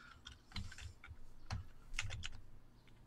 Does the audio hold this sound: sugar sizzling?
no